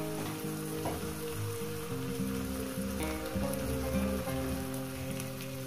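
Chicken pieces sizzle in a small amount of oil in a pan, a steady crackling hiss throughout, with a few clinks and stirring knocks and no talking.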